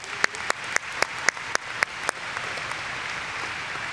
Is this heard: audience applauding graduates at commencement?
yes